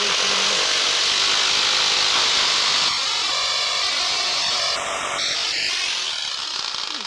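A DEFIANT electric jigsaw with a mechanical fault and a new blade cuts through wood in a loud, continuous buzzing rasp that eases slightly partway through the cut.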